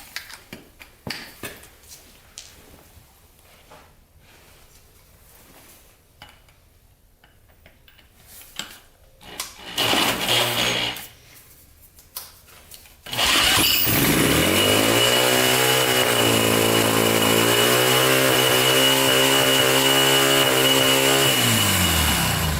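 Yamaha Warrior 350 ATV fires up after sparse clicks and brief cranking bursts; the engine then roars loud and close with the throttle wide open, holding a strong steady drone with slight shifts in pitch.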